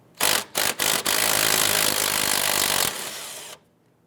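A power tool removes a nut from the wheel hub shaft of a 2012-2017 Toyota Camry, firing three short bursts and then a sustained whirring run of about two and a half seconds that cuts off abruptly.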